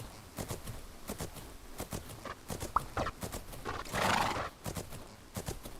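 Hooves of a cantering horse in the video game Fernhoof Grove thud in a quick, regular rhythm, close and clear, with a short whinny partway through.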